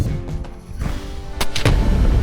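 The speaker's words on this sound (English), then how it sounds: "Fire in the hole." An explosive blast goes off at an outdoor dinosaur excavation in Montana, a loud low boom with rumbling debris that ends in a few sharp cracks, heard at moderate distance.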